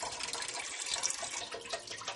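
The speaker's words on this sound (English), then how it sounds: "3 cups of tomato juice in a big old soup pot. And 3 cups of vegetable stock." Tomato juice and vegetable stock pouring into a big soup pot for a Mediterranean vegetable stew: a steady, close, continuous liquid splash and gurgle, with no talk.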